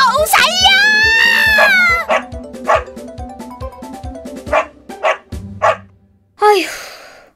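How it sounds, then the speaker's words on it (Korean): A dog barking loudly at a fox in an animated children's folk tale, a run of sharp, close, loud barks and yips, mixed with a high wailing cry at the start and a short shriek near the end. "자루에서 나온 개는 여우를 향해 크게 짖어댔어요"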